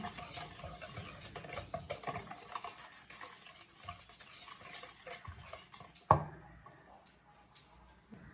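A spoon stirs chocolate brownie batter in a bowl with continuous soft, wet scraping strokes, quiet and near, ending in a single sharp knock against the bowl rim.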